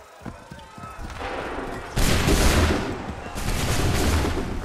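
A musket volley in Assassin's Creed 3, a massed roar of gunfire that erupts midway and swells again near the end, following quieter preparatory rustle and commands.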